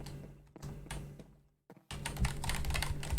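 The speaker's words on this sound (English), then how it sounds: "Oh, you can hear my keyboard." Computer keyboard typing during a Minecraft gaming session: irregular bursts of close, clicky keystrokes, a brief near-silent pause, then a denser run of rapid taps.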